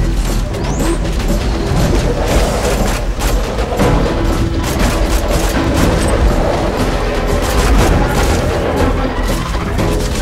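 Sentry guns in the video game Borderlands open fire in a dense, continuous barrage of loud crashing shots and booms that lasts the whole stretch, with no talking over it.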